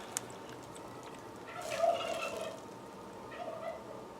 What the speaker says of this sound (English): Oh, my turkeys.